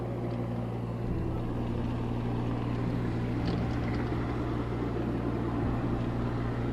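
Boat engine exhaust runs loud and steady throughout, a low droning rumble with strong harmonic tones and no speech, recorded near the water in the Texas Hill Country.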